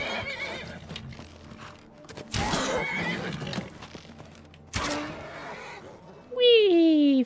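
In the game Skyrim, a horse's hooves clatter in loud bursts, then a clear, close whinny rises and falls at the end, with a person talking over the earlier part.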